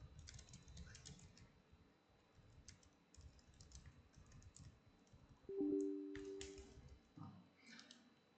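Quiet, close typing on a computer keyboard, irregular bursts of soft key clicks with short pauses, plus a faint tonal blip partway through.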